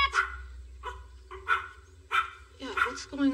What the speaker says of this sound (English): At least make your dog shut up.